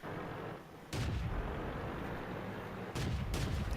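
Tank cannon rounds firing in World of Tanks, the game's gold ammunition loaded against a Matilda, with two loud booming shots about two seconds apart over a steady rumbling battlefield background.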